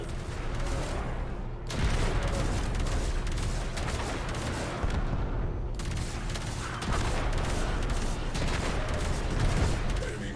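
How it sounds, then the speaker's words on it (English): Cannon fire against enemies during a Railjack mission in the Warframe game, a dense, continuous barrage of booming blasts and gunfire across the clip with no pauses, loud and close. "I'm gonna kill with a cannon."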